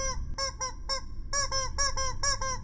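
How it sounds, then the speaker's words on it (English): Recorded chicken calls play back in a quick series of sharp, nasal honking squawks, roughly eight bursts in loose rhythm over a low background rumble, with no speech. "Let us hear the chicken from ASMR stream."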